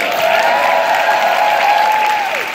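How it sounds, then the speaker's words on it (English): Steady applause from a seminar audience at a Mary Kay training event, dense and continuous clapping throughout, loud and close, with a sustained tone lingering beneath it. "Give Keita another round of applause."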